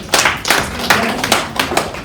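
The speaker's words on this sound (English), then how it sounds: "I would like a round of applause for her." Clapping at a handloom industry conference event, a handful of loud, close individual claps in an uneven rhythm rather than a full crowd, spaced out across the short moment.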